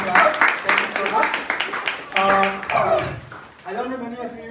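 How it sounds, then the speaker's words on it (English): Applause for a devotee after a devotional class, claps scattered and mixed with voices and a barking dog, the clapping fading as talk resumes. "So good round of applause for the devotee."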